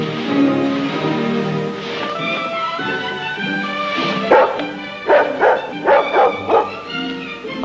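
A dog barks in a rapid run of sharp yips and yelps that rises at the end, mixed with whimpers and other indoor sounds, fairly close and loud.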